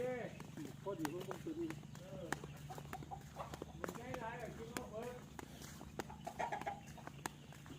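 Chickens cluck in short, scattered bursts at a farmyard coop while people talk nearby, with occasional sharp knocks and rustling in between.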